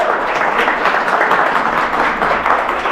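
An audience clapping for a speaker on stage, loud, steady, dense applause from a crowd throughout.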